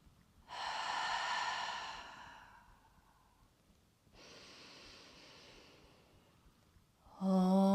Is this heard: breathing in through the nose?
yes